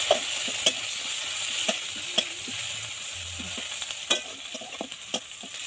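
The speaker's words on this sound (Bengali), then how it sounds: "তো এবারে এটাই 5 ফোড়ন দিচ্ছি, একটু পেঁয়াজ দিয়ে দিলাম" Onions and five-spice seeds fry in leftover fish oil, with a steady faint sizzle broken by regular sharp scrapes and clinks of a spatula stirring the pan.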